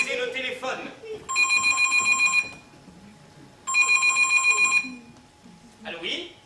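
Two long bursts of an electric telephone bell ring out loudly indoors, with a pause between them and a person talking before and after.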